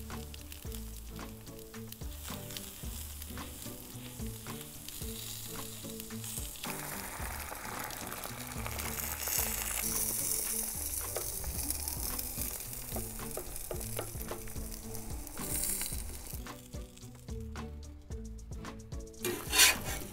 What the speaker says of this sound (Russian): На одной половине буду жарить сосиски, на второй сразу пожарю яйца.